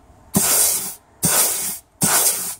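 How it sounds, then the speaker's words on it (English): Three sharp bursts of compressed air hiss loudly in quick succession into an automatic transmission clutch during an air pressure test, each lasting about half a second with brief pauses between. "Just going to do a quick air pressure test."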